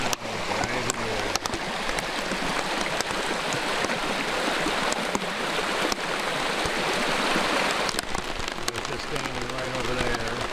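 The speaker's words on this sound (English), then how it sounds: "the water's coming down right in here" Water rushes down a washed-out creek, a loud, dense, continuous roar close by, with occasional sharp clicks and a voice talking faintly under it.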